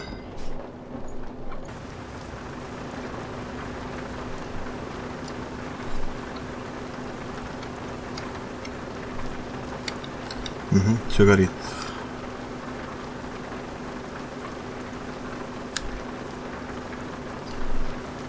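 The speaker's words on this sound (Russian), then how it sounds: "Дождь такой, конечно, хлещет, трындец." Heavy rain pours in the truck-driving game Euro Truck Simulator 2, a steady hiss of rain running through the whole scene with a brief louder burst midway, while a person talks over it.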